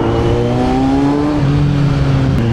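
A Kawasaki Z900 motorcycle fitted with an upgraded slip-on exhaust, not a full system, revs close by, its loud engine note climbing, dipping and climbing again with no talk.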